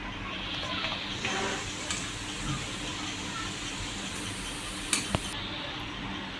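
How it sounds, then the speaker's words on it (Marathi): Paneer cubes fry in hot oil in a pan, a steady dense sizzle with a few sharp clicks and light utensil knocks near the end. "हे बघा, आपले छान क्रिस्पी असे तळून झालेले आहेत पनीर"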